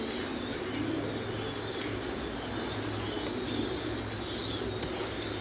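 Pigeons at a pigeon farm raising Thai and French breeds coo steadily in low repeated phrases, with chirps and faint wing sounds mixed into a constant ambient bed, no voices.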